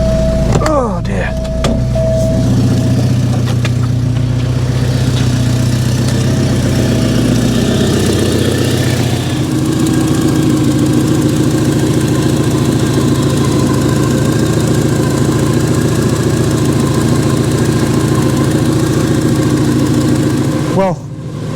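A Porsche 944 Turbo engine idles steadily with oil burning off, a loud continuous low rumble that shifts slightly in tone partway through and carries on without pause.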